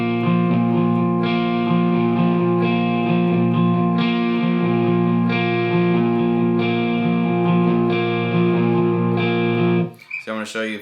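Electric guitar with distortion and chorus effects picks the repeating verse pattern of a song, steady ringing chords with regular new attacks for about ten seconds, close and loud, then a brief voice at the very end.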